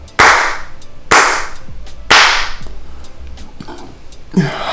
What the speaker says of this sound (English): All right, three big claps.